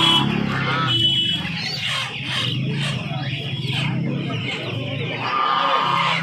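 Kadaknath and silkie chicks cluck and cheep at a crowded Saturday poultry market in Uluberia. Hens cluck and chatter continuously at close range, with a voice speaking over the birds and market noise behind.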